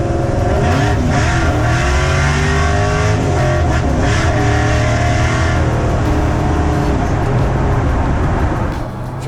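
A 1,000 hp ProTouring 1955 Chevy on an Art Morrison chassis with independent rear suspension and big tires, its engine roaring loud and close as it accelerates hard through rising gears, with a brief voice under the noise.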